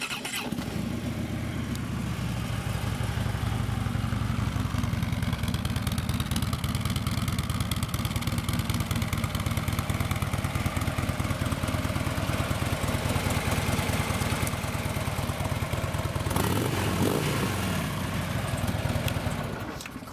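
A Harley-Davidson Street Glide FLHX with fairly low miles idles close by, its loud, steady rumbling engine running alone for the full twenty seconds with a brief change in tone near the end.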